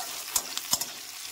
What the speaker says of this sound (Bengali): পেঁয়াজ আর টমেটোটা আমার ভালো করে ভাজা হয়ে গেছে।